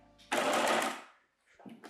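A Baby Lock sewing machine stitches swimwear elastic layered on fabric in one steady, close, loud run of about a second before stopping, followed by a brief soft voice.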